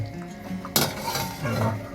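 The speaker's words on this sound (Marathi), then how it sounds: "थोडा वेळ झाकण मारून ठेवूया" A lid is set onto a pot of boiling chicken curry, a sudden metallic clank over the low bubbling and clatter of the pot.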